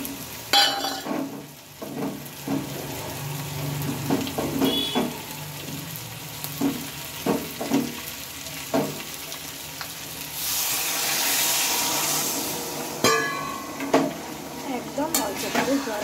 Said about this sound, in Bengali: এবার এতে আমি খানিকটা পরিমাণ জল দিয়ে নেব।